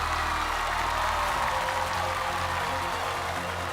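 A studio audience on a Chinese TV music show applauds and cheers continuously, a dense, loud wash of clapping with a low musical bed underneath.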